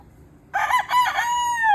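A young Polish rooster crows once, a strained, wavering cock-a-doodle-doo starting after a short quiet gap and holding to the end, close and fairly loud with no talk.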